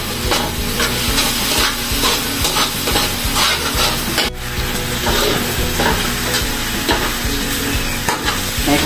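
Spaghetti sauce mixture stirred in a hot frying pan, a loud continuous sizzle with repeated scraping stir strokes and a brief break midway, no talking.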